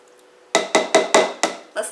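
Lemon syrup for baklava being stirred: a rapid series of about six sharp spoon-against-pot clinks, loud and close, in a quick irregular rhythm.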